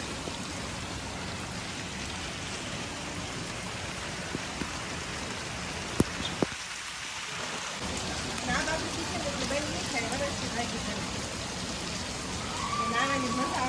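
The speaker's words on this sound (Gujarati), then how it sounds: "અત્યારે વરસાદ બહુ ધારો ચાલુ થઈ ગયો છે" Heavy monsoon rain pours steadily in a broad, dense hiss with scattered drops striking surfaces close by, continuous throughout, with a brief dip in the low rumble midway and a few voices speaking faintly beneath it.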